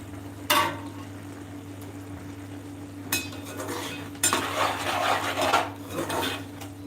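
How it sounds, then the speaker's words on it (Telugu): A spoon scrapes and knocks against a pot while tomatoes and onion are mashed into a gravy, giving scattered clinks and bursts of scraping over a quiet steady hum, with no voices. "మనం ఇప్పుడు టమాటాలను కొద్దిగా మ్యాష్ చేసుకుందాం ఫ్రెండ్స్"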